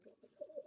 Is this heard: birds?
yes